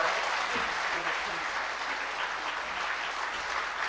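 Steady, dense audience applause at a motivational speech event in Tamil Nadu, a continuous wash of clapping throughout, moderately loud, with a brief voice faintly underneath early on.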